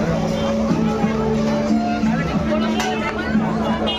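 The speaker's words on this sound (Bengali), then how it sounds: "আর আজকে ভিড়টা প্রচণ্ড হয়েছে" Dense, steady crowd babble fills the air at the Mahishadal chariot festival, a loud, continuous hubbub of many voices mixed with background noise, with a nearby voice speaking over it.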